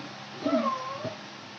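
A cat meows once, a clear drawn-out mew rising and falling, close by and moderately loud against a quiet indoor background.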